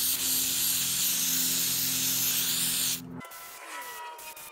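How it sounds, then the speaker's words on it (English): Electrical contact cleaner is sprayed in a long, loud hissing burst onto starter parts from a Hitachi starter, cutting off abruptly, followed by quieter handling sounds. "We'll bring everything outside and spray it down with some electrical contact cleaner."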